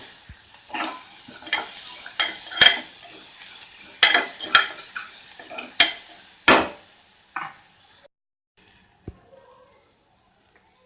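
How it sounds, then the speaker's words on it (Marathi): Onion being sautéed with salt for white pea usal, a spoon stirring and scraping the pan in a string of sharp clacks over a light sizzle, close and fairly loud, ending in near silence with one last tap. "परतून घ्यायचं आहे."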